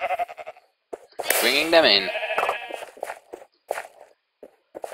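A loud, long wavering sheep bleat from a video game battle rises over footsteps and game sounds, with someone talking in bursts before and after it.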